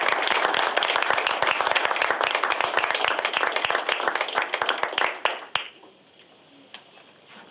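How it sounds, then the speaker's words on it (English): Audience at a library homecoming event applauding a donors' gift for a new reading room, many hands clapping loudly and steadily before thinning out and stopping near the end, leaving a quiet room. "Let's give them a round of applause."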